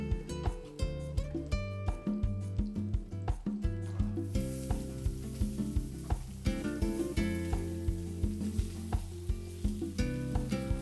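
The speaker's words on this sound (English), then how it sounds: "A little olive oil to saute the vegetables." Vegetables sautéing in olive oil for potato fritters, giving a steady loud sizzle with rhythmic stirring and scraping strokes throughout, heard alone without talk.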